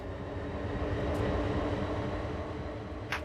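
Diesel locomotive rumble from a GP-38 in Train Sim World 4, heard from the cab as a steady, close low drone, with a brief hiss near the end.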